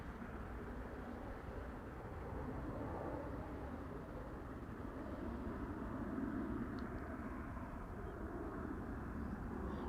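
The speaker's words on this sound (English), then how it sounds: "this BizJet taking off from runway 22 just now" A business jet taking off from runway 22 at Amsterdam Schiphol Airport produces a faint, distant, broad roar that swells slightly and rumbles on steadily.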